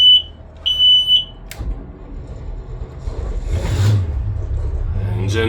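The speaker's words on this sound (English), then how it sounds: "And 2 beeps means everything is normal." Two distinct high electronic beeps from a boat's engine start-up warning system, followed by a low engine rumble building as the motor turns over.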